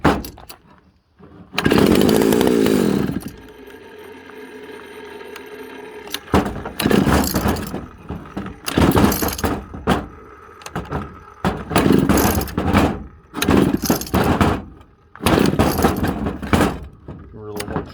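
A vintage Pioneer chainsaw with a freshly rebuilt carburetor sputters through pull-start attempts, then fires and runs in loud, ragged bursts between pauses, with someone talking in between.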